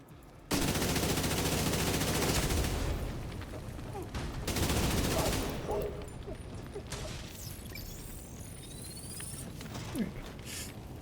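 AK rifle fire in a video game rattles out in loud, sustained automatic bursts, then tapers into scattered shots and mechanical clatter as the action continues.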